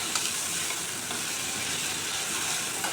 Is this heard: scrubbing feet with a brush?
no